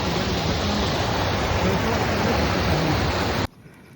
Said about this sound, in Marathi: धबधबे अतिशय सुंदर